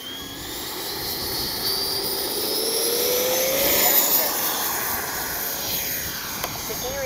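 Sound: Freewing 90mm F4 Phantom II RC jet taking off

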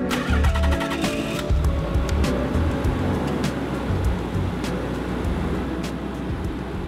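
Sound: Nissan R32 GTR engine starting and running

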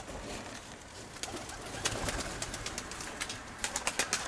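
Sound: pigeon cooing

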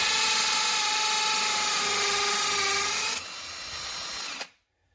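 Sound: cordless hammer drill drilling into wall

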